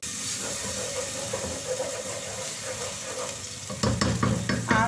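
Whisked yogurt being stirred into a sizzling kebab masala in a pan, a soft steady frying hiss with a few louder scraping stirs near the end.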